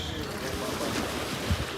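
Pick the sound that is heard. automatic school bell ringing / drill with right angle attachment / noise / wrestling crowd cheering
noise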